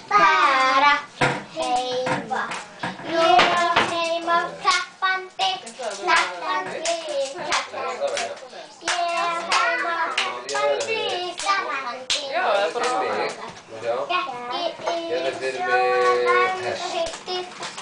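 Children's hand-clapping rhyme, with a voice chanting in Icelandic and rhythmic hand claps marking the beat throughout the long recitation.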